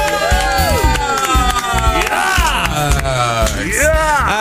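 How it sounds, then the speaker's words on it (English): A radio studio crowd cheers and claps for Sara Cox on the Radio 1 Breakfast Show, with loud whoops and shouting voices over scattered applause close by. "Round of applause for the one, the only Miss Sara Cox."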